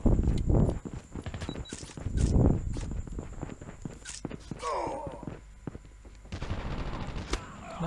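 Gunfire in the mobile shooter game Call of Duty Mobile, with bursts of rapid shots and scattered single cracks alongside game footsteps, fairly loud and close.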